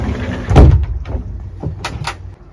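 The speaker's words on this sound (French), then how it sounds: "Et il y a aussi donc 2 portes coulissantes" A sliding partition door between the bedroom and lounge of a Rapido 8090DF motorhome rolls along its track and closes with a firm knock, followed by a few lighter handling clicks.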